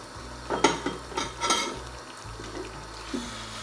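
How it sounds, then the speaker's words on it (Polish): Tomato sauce is stirred in a hot frying pan after pasta water is added, with a handful of close utensil scrapes and clinks against the pan in an uneven rhythm. "to wszystko ładnie wymieszać."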